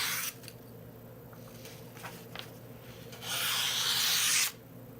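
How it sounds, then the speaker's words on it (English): A Cerakote-coated knife blade is drawn along a coarse 200 grit sharpening stone, giving a rough, gritty rasping scrape with short strokes early on and one longer, louder sustained pass near the end, with no talking. "That Cerakote sound is gross. Plus the 200 grit just is rougher."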